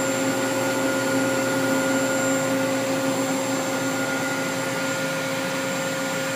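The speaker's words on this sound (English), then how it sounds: "Spindle is nice and quiet." A Cincinnati Avenger 250MT three-axis CNC lathe spindle runs at 500 RPM, giving a steady, even whine with constant tonal hum, close and unbroken throughout with no talking.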